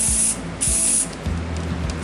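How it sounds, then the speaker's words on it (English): Spray paint hissing from a can in two short, close bursts, loud and sharp, separated by a brief gap with faint background hum. "I'm going to do this just by spraying"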